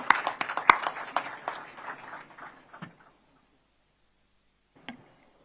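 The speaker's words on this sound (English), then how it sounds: "Please give him a big round of applause." Audience applause at a ceremony opening a semiconductor assembly and test plant: a burst of clapping that fades out over about three seconds, then a brief isolated clap, with no talking.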